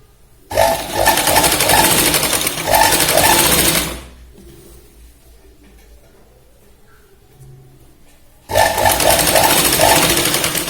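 A sewing machine stitches kurti fabric in two loud, close, steady runs, one early and one at the end, separated by a quieter pause of low room noise.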